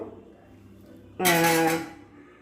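A lid set down onto a cooking pot with a single bright metallic clang that rings for about half a second, close and loud over quiet background.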